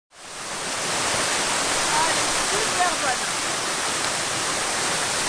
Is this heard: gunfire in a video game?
no